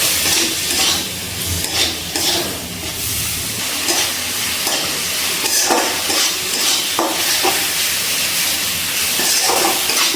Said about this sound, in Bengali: এবারে খুব ভালো করে মশলাগুলো মিশিয়ে কষিয়ে নিচ্ছি।